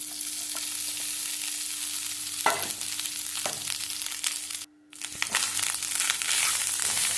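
Cooked rice being tipped into a pan of fried garlic and stirred together, a steady sizzle with rustling, crunchy scraping strokes and a couple of firmer knocks, close and without speech.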